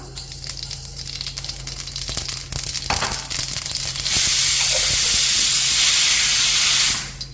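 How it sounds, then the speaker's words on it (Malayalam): Mustard seeds dropped into hot oil in a pan for papaya thoran, first scattered crackles and pops, then a loud, dense spluttering hiss that holds steady for about three seconds before cutting off. "പാൻ ചൂടാകുമ്പോൾ നമുക്ക് എണ്ണ ഒഴിച്ചു കൊടുക്കാം കടുക് ഇട്ട് കൊടുക്കാം"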